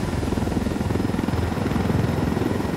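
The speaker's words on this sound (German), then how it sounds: "Bringen Sie den Hubschrauber zum Treffpunkt, ja." A helicopter in the video game Tom Clancy's Ghost Recon Wildlands gives off a loud, continuous rotor thump with a rapid, even beat, heard close with no talk over it.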